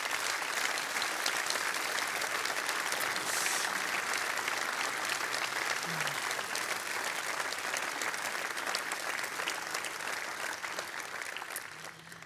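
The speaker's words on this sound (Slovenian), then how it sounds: "En velik aplavz za vse." Audience applause at an outdoor summer night concert by a Karst wind band in Sežana, sustained even clapping from a sizable crowd that stays steady and fades slightly at the end.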